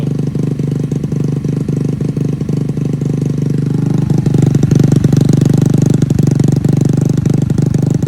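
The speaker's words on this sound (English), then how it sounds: "We'll let the bike warm up." A Honda Navi motorcycle idles after a cold start while warming up, its engine putting out a steady, loud, close-up putter with a fast even pulse that deepens slightly partway through.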